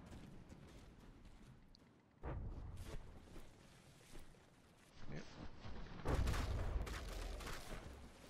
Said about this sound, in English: the barrage cannons are definitely working okay there